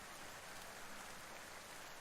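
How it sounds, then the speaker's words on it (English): Steady rain in a forest video game patters against a character's mask, a soft, even hiss of drops with no break and no voices. "The rain hitting my mask is soothing."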